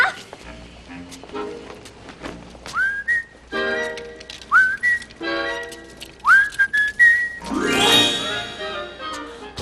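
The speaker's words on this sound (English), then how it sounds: "Whistle" A person whistles rising, swooping notes in a short melody, interspersed with dog yips and barks and other close sounds.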